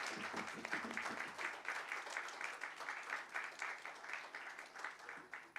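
Steady applause from a seated audience at an award ceremony, a dense continuous patter of many hands clapping at moderate loudness, with faint voices underneath.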